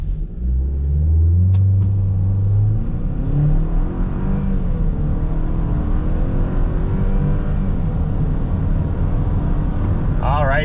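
A 2024 Chevy Silverado pickup with automatic transmission is brake-revved and launched from 0 to 60, its engine rumbling low and loud before settling into a steady climbing drone with rising whine, heard from inside the cab.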